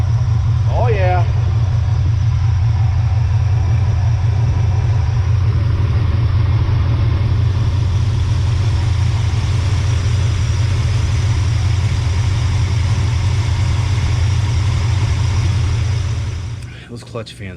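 A square-body Chevy dually truck engine idles steadily with its clutch fan running, a loud, constant low rumble throughout that cuts off abruptly near the end.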